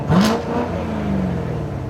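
Dodge Hellcat Challenger and BMW M4 launching in a drag race, a brief loud burst of engine roar rising in pitch, then holding a steady high-revving drone.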